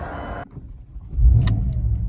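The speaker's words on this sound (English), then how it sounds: "Wow, such a sick exhaust system on the vehicle." A Porsche Panamera with 24,318 miles pulls away on a test drive, its engine and exhaust swelling into a loud, close roar after a short hush, with a brief whir near the start.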